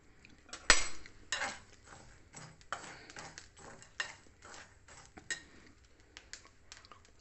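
Chickpeas being stirred in preheated salt in a pan over low heat: a metal spoon scrapes and clinks against the pan in irregular bursts, with gritty rustling of salt and chickpeas between strokes, close and fairly quiet.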